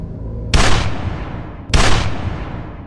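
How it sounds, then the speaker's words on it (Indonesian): Two loud, sharp gunshots ring out about a second apart in a TV series scene, each with a booming decay, over a quiet background with no speech. "Kita mendengar suara tembakan"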